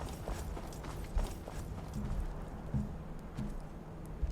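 Horse hooves clip-clop in the Skyrim SE video game, a soft, steady walking rhythm of muffled thuds sitting low and fairly distant under a constant ambient bed.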